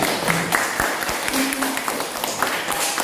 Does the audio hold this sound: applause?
yes